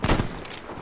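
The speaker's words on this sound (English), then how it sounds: "I just got headshotted from about 80 meters away with a shotgun." A shotgun blast in Battlefield 5 fires once, loud and close, at the very start, then its echo rolls away quickly.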